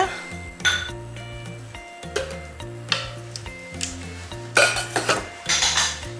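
A metal cake mould for traditional boiled babka being closed tight, with repeated metallic clanks, clinks and scraping knocks up close, irregular and fairly loud, over a low hum, with no speech.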